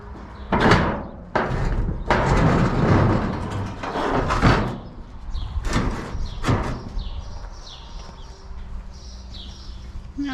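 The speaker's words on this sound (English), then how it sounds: "open the door to the pen, see will they come out." A door to an animal pen behind a shed on a farm being opened, giving several loud clunks and knocks in the first half, followed by quieter bird chirps outdoors.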